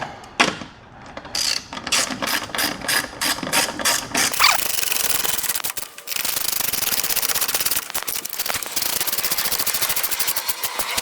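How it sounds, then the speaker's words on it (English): Screws being driven back into the top of an American Modified armor grille on a Ford F150 Tremor, heard as loud rapid ratcheting power-tool bursts, several short rhythmic runs followed by longer steady whirring, close and alone. "we're gonna start putting all of these screws back into place on the top part of the grill"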